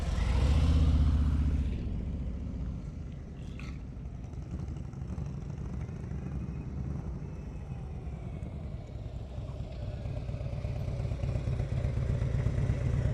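A motorcycle engine idles and putters steadily through slow-speed riding practice on a course, with a louder burst at the start and a low, continuous rumble that swells slightly toward the end.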